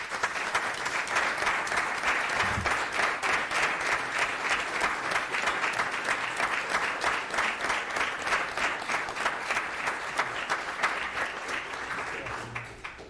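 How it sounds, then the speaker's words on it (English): A roomful of people at a city council meeting applauds coaches and seniors with sustained, dense clapping that holds steady for over twelve seconds before tapering off. "And one more round of applause for these guys."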